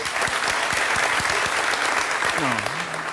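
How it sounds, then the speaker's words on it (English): Studio audience applause during a daytime talk show, continuous dense clapping heard close and steady, with a voice briefly speaking under it near the end. "I appreciate the applause, but this is what is important."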